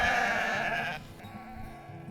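A sheep bleats loudly and close for about a second, one drawn-out wavering call, followed by quieter rustling and farm ambience.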